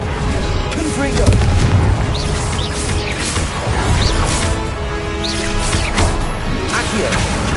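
Confringo blasts go off during combat in Hogwarts Legacy, a string of heavy booms and crashes within constant battle noise and effects, with voices calling out spells along the way.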